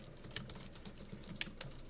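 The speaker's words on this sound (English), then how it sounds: "I'm going to type in my name" Light keystrokes tap on a computer keyboard as a name is entered, soft irregular clicks close by with a few sharper presses, no voices.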